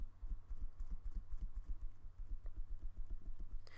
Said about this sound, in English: Sorry guys if you can hear me keyboard.